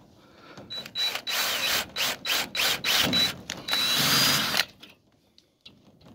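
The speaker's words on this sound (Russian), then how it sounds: "Но предварительно делается отверстие." A power drill boring a pilot hole for a 4.2 x 25 screw in a solid door, running in a series of short on-off bursts for about five seconds and then stopping, close and fairly loud, with no speech.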